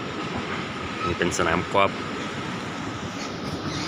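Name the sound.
Bangkok skytrain (BTS) running on rails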